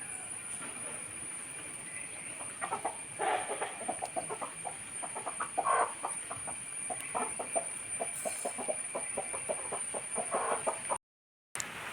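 Chickens cluck in a series of short, rhythmic bursts over a steady background hum, moderately close, with no voices.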